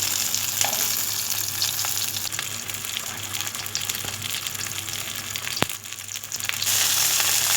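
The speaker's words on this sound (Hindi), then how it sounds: "स्लो फ्लेम पर हम इसको फ्राई करेंगे कबाब को।" Beef seekh kebabs fry on a tawa over a low flame, giving a steady, close, loud sizzle with scattered crackles that swells slightly toward the end.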